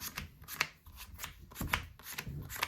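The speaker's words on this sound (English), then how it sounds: "I'm just going to give the deck a shuffle" Yu-Gi-Oh card deck being shuffled by hand, a quick series of crisp riffling and sliding card sounds in short bursts, close and clear with no speech.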